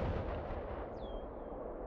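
Artillery fire booms in the WWA RTS strategy game, a faint, distant rumbling blast with a short whistling streak partway through, heard alone without voices.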